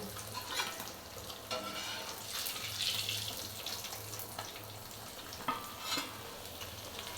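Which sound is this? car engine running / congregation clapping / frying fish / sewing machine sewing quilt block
frying fish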